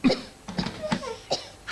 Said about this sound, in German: Hast du etwas, um unseren Husten zu stoppen?